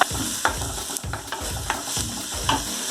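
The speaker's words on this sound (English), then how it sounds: "Now add the chopped spinach." Chopped spinach fries in a pan with a steady close sizzle, while a spoon scrapes and stirs in repeated strokes about every half second, loud and without talk.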